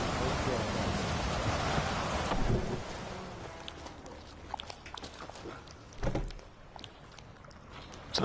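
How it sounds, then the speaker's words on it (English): Steady rain hisses over a broad wash in The Witcher 3, with a heavier downpour at first that thins out, broken by a thud or rumble near the end while voices talk faintly beneath it. "Looks like rain."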